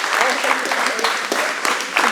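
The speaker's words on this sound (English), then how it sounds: "Give him a round of applause." A crowd at a martial arts seminar belt promotion claps steadily, a loud, dense wash of many hands that holds for a couple of seconds.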